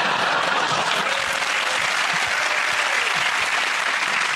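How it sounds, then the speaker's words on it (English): Loud, sustained studio audience applause fills a television comedy panel show, a dense steady wash of clapping with scattered cheers, with no talk over it. "One of the largest spontaneous and heartfelt applause we've had."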